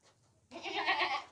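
A goat of a fine breed bleats once, loud and close, a sustained nasal cry lasting under a second after a brief faint murmur.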